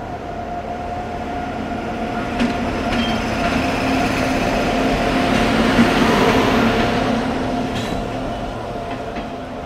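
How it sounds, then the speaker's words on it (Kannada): A special passenger train pulls into KSR Bengaluru railway station with a loud, steady rumble of wheels on rails that swells in the middle and eases off, carrying faint squeals and clicks, with no one speaking. "ಸ್ಪೆಷಲ್ ಟ್ರೈನ್ ಐ ಗೆಸ್ ನಮ್ಮದು ಎಂಟ್ರಿ ಹೊಡೀತಿದೆ."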